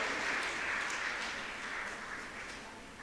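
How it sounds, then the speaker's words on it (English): Audience applause at a community felicitation day, steady dense clapping filling the whole stretch, moderately distant and slowly fading. "Let's give them a round of applause for all their animation and hard work."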